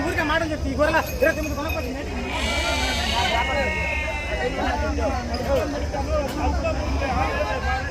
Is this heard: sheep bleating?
yes